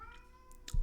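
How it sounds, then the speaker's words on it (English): A pet cat meows faintly in the background of an indoor room, a short, distant cry near the end with a soft thump. "if you can hear my cat in the background"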